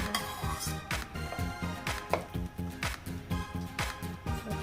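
Pounded minced pork mixed with fermented soybean paste and shallots is stirred into coconut milk in a pan. A utensil clinks and scrapes against the pan in a steady, repeating rhythm over a soft, continuous cooking background.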